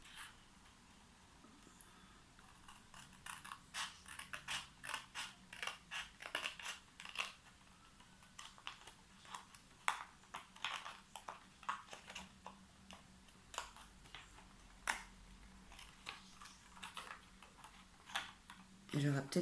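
Scissors snip along a folded crease in paper or card while making a card storage box, producing a long run of quiet, rapid crisp cutting ticks with soft rustles in between.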